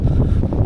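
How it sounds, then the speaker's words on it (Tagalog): Wind at Saud Beach in Ilocos Norte buffets the microphone in a brief, steady low rumble with no other sounds standing out. "Mahangin."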